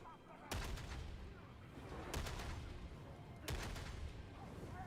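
Gunfire in Darktide, heard as three faint, widely spaced bursts of rapid shots over a dense, rumbling background of combat noise.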